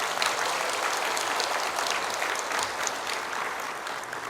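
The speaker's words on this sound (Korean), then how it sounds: "박수 한번 쳐줘봐요." A church congregation at Bethany Church claps together, with a steady, dense wash of applause that holds evenly throughout at a moderate level.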